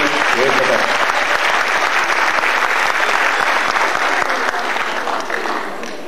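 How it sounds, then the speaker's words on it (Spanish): Steady, loud crowd applause from an audience at a martial arts demonstration, sustained for several seconds and tapering slightly at the end. "Fuertes y aplausos a los invitados especiales de esta tarde"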